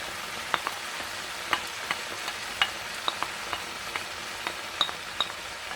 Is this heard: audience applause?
no